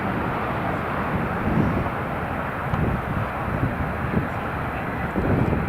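An Italian Air Force C-27J transport plane landing at Newcastle International Airport gives a steady, broad engine roar that holds loud and close throughout, with slight swells as it passes.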